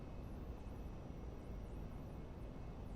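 Jet engines of a Learjet 25 in the Prepar3D flight simulator give a steady, faint broadband roar with a thin high whine, continuous and unchanging, with no talk.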